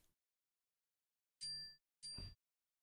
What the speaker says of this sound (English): Oh, I forgot to silence my phone.